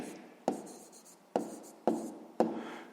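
A pen writes out a math solution by hand in four short, crisp scratching strokes about half a second apart. Each stroke starts sharply and fades. The sound is close and quiet, with no speech.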